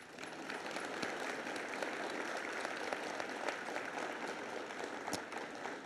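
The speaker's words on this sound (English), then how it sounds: "please share a special round of applause for Mr. David DeMint." Sustained applause from an audience at an eighth grade bridging ceremony, a dense wash of clapping that holds steady the whole time without any talking.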